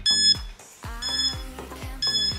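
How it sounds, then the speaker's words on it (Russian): A workout interval timer at a home leg-slimming exercise session sounds a few loud electronic beep bursts with sharp onsets and ringing tones, repeating roughly every second with brief pauses, alone and without talk. "Я включаю таймер."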